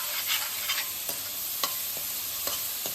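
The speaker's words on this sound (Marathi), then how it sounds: "अद्रक लसूणची पेस्ट घालून घ्यायची आणि छान अशी परतून घ्यायची" Ginger-garlic paste sautés in a pan over low flame, a steady sizzle broken by several light scrapes and taps of a spatula stirring it.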